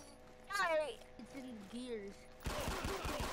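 Rapid automatic gunfire in the Roblox game Special Forces Simulator bursts out near the end after a stretch of expressive talking, with quick close shots in a fast stuttering volley.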